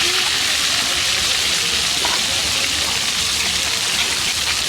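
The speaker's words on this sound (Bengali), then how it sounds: "এই মাছের মাথা ভাজা হচ্ছে" A fish head fries in a pan of hot oil, giving a loud, continuous, close hiss of sizzling that stays steady throughout.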